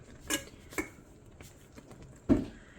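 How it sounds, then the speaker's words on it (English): A spoon clinks against a pot while a sugar and xanthan gum mix is stirred into homemade blueberry jam, a few sparse, quiet taps and scrapes spaced irregularly with soft stirring between. "now I am going to slowly stir my sugar and xanthan gum mix in"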